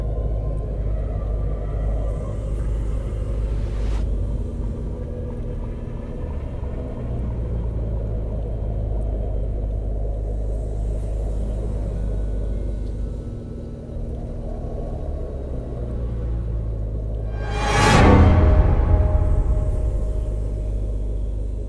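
An animated car creeps slowly along a foggy road, a low continuous engine rumble running throughout, swelling briefly louder late on, with no talk.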